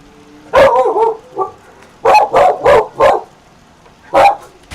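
A dog barks close and loud in a house, giving a couple of quick yips, then a run of four sharp barks and one more after a pause, with no voices over it.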